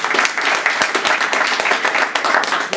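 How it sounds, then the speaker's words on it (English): Audience applause fills a hall at a Toastmasters division speech contest, many hands clapping densely and loudly in a sustained, even wash with no talking. "I'd like to begin just by applauding the audience"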